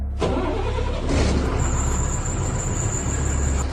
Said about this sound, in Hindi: इंजन की थोड़ी सी गुनगुनाहट ने रात की खामोशी को चीर दिया